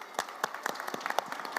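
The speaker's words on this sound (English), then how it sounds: "Let's send them with a big round of applause." Applause from a conference audience for departing panelists and a moderator at the close of a panel session on a decarbonized urban future, steady dense clapping at moderate distance with no talk over it.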